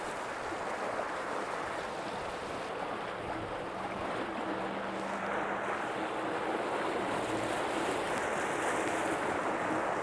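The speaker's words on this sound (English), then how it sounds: "we can start to hear a little bit more water noise as we increase" Water churning steadily from an electric narrowboat's propeller, a constant wash that grows slightly louder toward the end as revs increase, with a faint low motor hum beneath.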